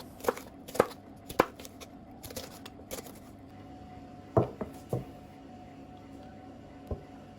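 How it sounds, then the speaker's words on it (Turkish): A knife chops hot pepper on a cutting board in scattered sharp knocks, a quick run of several then a few spaced strikes, close and fairly quiet. "Burada doğradığım biber acı biber."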